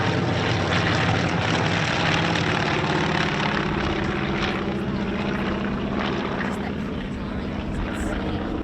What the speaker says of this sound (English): Forming up now in close formation, flying overhead, Avenger and Wildcat together.